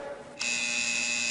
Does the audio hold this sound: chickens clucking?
no